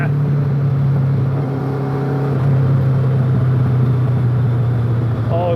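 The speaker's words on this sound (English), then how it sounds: "Oh, that overrun." A Kawasaki ZZ-R1200-engined Indy car from the inside, its engine droning steadily on overrun with a loud, continuous hum and slight pitch shifts throughout.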